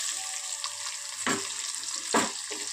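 About 200 grams of onion fry with whole cardamom, cloves and cinnamon for a prawn pulao, giving a steady close sizzle with a couple of brief scraping stirs of the pan.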